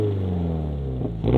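A Subaru BRZ or Toyota GR86 fitted with a Remark catback exhaust revs steadily up close, its tone holding even before swelling louder near the end.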